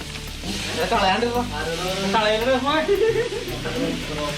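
Tomatoes frying in a hot pan, a soft sizzle running underneath people talking close by.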